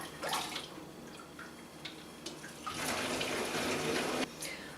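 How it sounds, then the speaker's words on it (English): Homemade brewing liquid splashes and trickles as it is poured through a strainer into a jug, a steady close-up stream with a heavier gush toward the end. "going to start pouring this back in the jug through the strainer"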